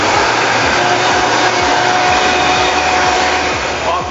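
A Vitamix blender with a 64-ounce container purees nuts at a loud, steady, close roar, the motor droning continuously with a gritty churning texture throughout.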